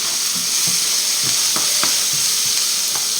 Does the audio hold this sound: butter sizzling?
yes